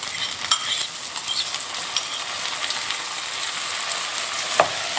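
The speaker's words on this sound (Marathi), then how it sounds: "आनी टोमॅटोज न्हू सारकी सॉफ्ट जावसर आमी बरी सॉटे करूया" Tomatoes sauté in a pan over fried onion, ginger and garlic, a steady close sizzle with occasional faint clicks and scrapes of stirring, no voices.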